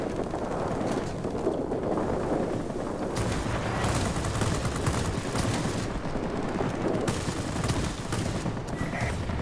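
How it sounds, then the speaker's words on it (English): A 37mm aircraft cannon fires in a video game, sustained heavy gunfire with dense booming bursts running loud and continuous through the whole stretch with no talk over it. "Let's go ahead and utilize this big old cannon."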